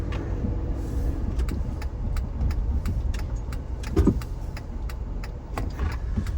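A car rolls through a residential neighborhood, its engine and tire noise forming a steady low rumble inside the cabin, with faint ticking and jingling rattles and a brief thump partway through, and no voices.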